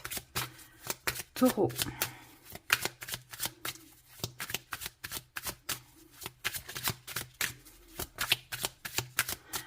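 Tarot and oracle cards shuffled by hand, a fast, steady run of crisp riffling flutters repeating throughout, with someone speaking over the shuffling.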